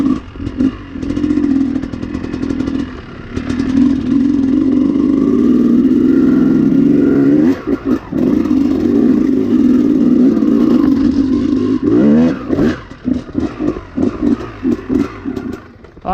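A dirt bike fitted with a flywheel weight is being ridden, its engine loud and close with a sustained throaty drone, rising revs and brief throttle blips, plus some clatter from the terrain.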